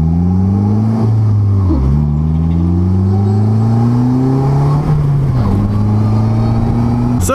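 A 2016.5 Slingshot SL Limited Edition three-wheeled roadster engine revs up and down repeatedly, its pitch climbing and dropping between gear shifts, loud and close with no talking.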